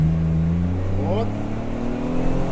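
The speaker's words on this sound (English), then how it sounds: "Я вот нажал резко газ, она не смогла взять." Chevrolet Traverse engine rising as the throttle is pressed hard, a steady close drone that swells briefly and then fails to pull, with someone talking over it.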